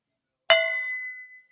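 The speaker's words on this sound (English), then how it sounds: "It'd be remiss of me also not to ring the AI gong for this one." A single metallic gong strike rings out clearly from silence, its bright tone sustaining and slowly fading over about a second.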